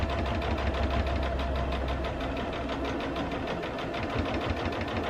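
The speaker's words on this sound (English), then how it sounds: "I'm just stitching that down. Again, not going fast." A sewing machine stitches prairie points slowly along a quilt top edge, giving off a steady, even mechanical whir with a faint repeating pulse, close by and uninterrupted by talk.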